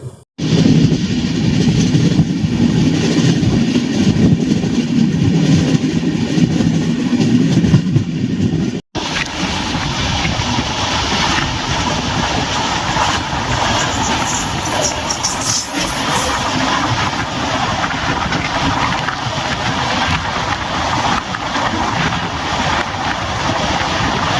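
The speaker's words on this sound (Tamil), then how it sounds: "நம்ம வண்டி சென்னை எக்மோருக்கு 1 ஹவருக்கு பிஃபோரா போயிட்டு இருக்குங்க." A Humsafar Express train rolls toward Chennai Egmore, a continuous rumble of engine and wheels heard from aboard, with a brief cutoff partway through before the steady running noise resumes.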